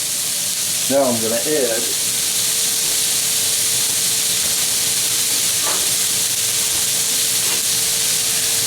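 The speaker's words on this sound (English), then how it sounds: "this will kind of deglaze the pan a little bit" A pan deglazed while veal paprikash cooks gives off a continuous hiss and sizzle, steady and close, with someone talking briefly over it near the start.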